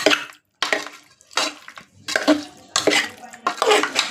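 Marinated mutton being stirred and mixed in a pot, bursts of wet clattering scrapes in several separate rounds with short pauses between, fairly close and without talk.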